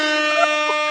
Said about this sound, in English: I don't normally use the air horn for guests